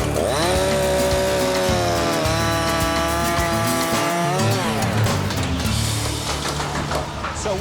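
A chainsaw cuts through wooden logs salvaged from an old family home, its engine revving up and down in long, loud, close strokes with a steady droning whine throughout.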